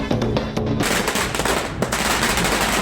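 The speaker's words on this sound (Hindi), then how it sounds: "धूल नगाड़ा, धूम धड़ाका और आतिशबाजी।" Dense rapid bursts of fireworks crackling and popping at a political celebration in Jharkhand, India, loud and continuous, with sharp bangs layered over a steady roar of explosions.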